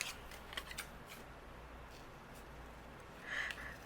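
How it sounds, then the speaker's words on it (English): Scissors trimming a monarch butterfly out of pattern paper, a few quiet snips and paper rustles close by, with a faint scrape toward the end. "So I'm going to use my scissors, and I'm going to just trim this out."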